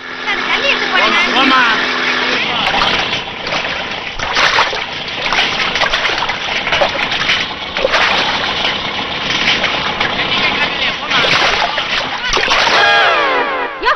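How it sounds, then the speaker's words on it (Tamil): Water is thrown over a person in a Tamil film scene, giving a long, loud splashing and sloshing spray that runs through the whole stretch, with voices and background noise mixed in. "ஏன் என் மேல தண்ணி ஊத்துன?"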